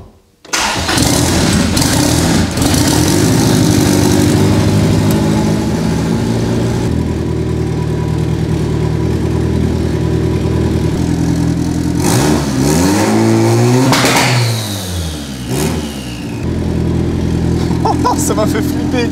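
A car engine fitted with a wastegate cranks and fires up, then idles in a loud, steady roar before several sharp revs rise and fall near the end, close by, with a voice talking over it.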